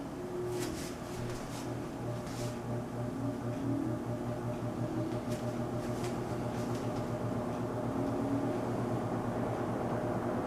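A Penncrest Model 9702 box fan from J.C. Penney running on low in exhaust mode, a steady motor hum with a faint low drone and soft airy whoosh, unchanging throughout with no talking.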